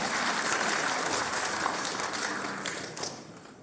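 At a Batak mangulosi ceremony honouring the parents of friars taking perpetual vows, the gathered audience gives the participants a dense round of clapping that stays steady and then tapers slightly toward the end.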